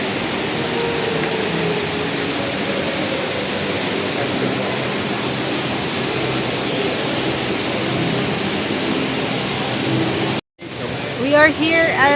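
Indoor waterfall at Jewel, Singapore, a loud, steady wash of falling water roaring continuously, briefly cut off near the end before resuming with voices talking over it.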